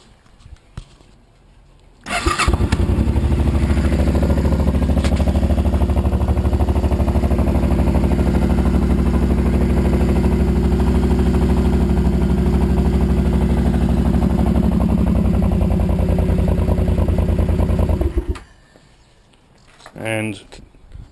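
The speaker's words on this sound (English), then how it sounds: "this is what she sounds like at the moment." A Suzuki C800 motorcycle with a debaffled stock exhaust idles loudly and steadily up close, a deep rumbling throb lasting about sixteen seconds before cutting off.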